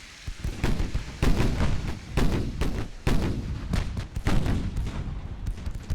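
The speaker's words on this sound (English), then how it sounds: "Not bad for 11-inch guns." 11-inch naval guns fire in the naval combat game Ultimate Admiral: Dreadnoughts, with repeated heavy booming salvos in quick irregular succession, each a loud broadband blast with a rumbling tail.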